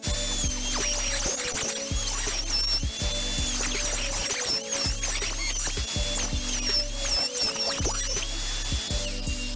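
A power tool cuts grooves along the wood for a simple Shaker-style barn door, making a loud, steady whirring drone with a regular pulsing rhythm as it works along the pieces, close and without any talk.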